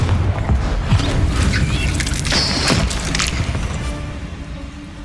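In Hogwarts Legacy, a Confringo fire spell bursts with a loud, heavy blast, crackling and thudding against a rumbling low background, with a sharp hissing flare midway.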